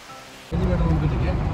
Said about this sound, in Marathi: पण बाहेर इतका पाऊस आहे ना